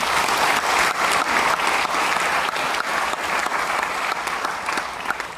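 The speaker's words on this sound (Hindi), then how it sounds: "मैं चाहूंगा उनके लिए जोरदार तालियां" A large seminar audience breaks into loud, dense applause for a guest being honoured, a continuous wash of many hands clapping at full strength that tapers only slightly toward the end.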